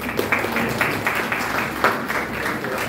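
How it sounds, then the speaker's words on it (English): Applause from a conference audience at an engineering technology panel, a steady wash of clapping filling the room for the whole stretch, fairly close and even in loudness. "Give a large round of applause to us."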